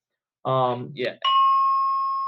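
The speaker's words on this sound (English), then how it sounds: "They ring the bell. The library likes to ring." A library bell rings with a clear, sustained metallic tone that hangs and rings on after a brief burst of voice and a short clatter, loud and close.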